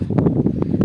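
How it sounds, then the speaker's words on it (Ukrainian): Strong wind buffets the microphone with a steady, low rumbling roar and gusty rustle throughout. "Вітер у нас страшенний опять."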